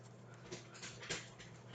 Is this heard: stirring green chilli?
no